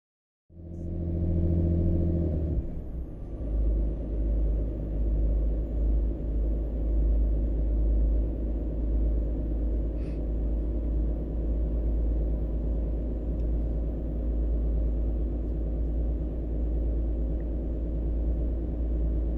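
A heavy truck engine in American Truck Simulator drones with a deep, steady rumble after a brief opening dip as it shifts up, then holds a loud, even hum throughout with no talk.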